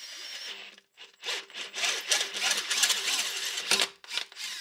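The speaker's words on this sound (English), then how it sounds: "You would just drill it out and then stick a bolt through it." A drill bores out a stripped bolt hole in an aluminum transmission pan, with bursts of grinding, chattering cutting noise close by, separated by short pauses.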